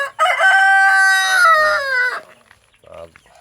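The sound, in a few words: Rhode Island Red chickens crowing and clucking in coop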